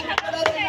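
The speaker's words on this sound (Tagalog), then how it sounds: "Palakpak." Scattered hand claps at a village fiesta, three sharp separate claps spaced evenly apart, close and distinct against a murmur of voices in the background.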